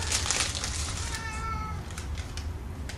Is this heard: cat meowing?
yes